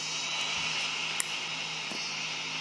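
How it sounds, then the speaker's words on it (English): Steady airplane engine drone in the GTA video game as the plane readies for takeoff, a constant broadband roar holding level throughout with one brief click partway in. "Control tower, we're ready for takeoff."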